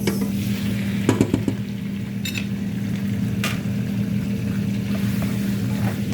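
Squid sizzles steadily in a hot pan, a constant frying hiss with a few clinks and scraping stirs over a low background hum, with no talking.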